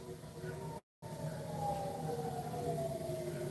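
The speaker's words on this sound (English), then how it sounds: "Sirens going off, giving you 10 minutes to, bunker." Air raid sirens wail across Tehran in a steady, sustained rising tone with a brief dropout, loud and continuous over a dense low rumble.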